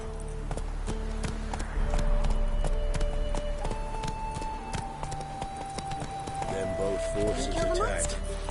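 A horse gallops in The Witcher 3, its hooves beating a quick, even clip-clop for several seconds under the game's ambient sound, with voices talking in the background.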